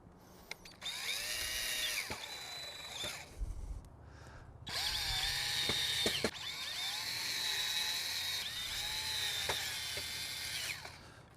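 A cordless drill drives screws through a metal flap into pre-drilled holes on a Bestop Trektop NX soft top for a 1997-2006 Jeep Wrangler, with several loud whirring bursts of varying pitch separated by short pauses.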